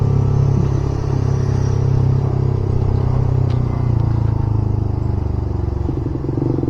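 A Suzuki GSX-S150 motorcycle pulls hard under acceleration, its engine a loud, close, continuous drone that rises gradually in pitch over several seconds, with no speech over it.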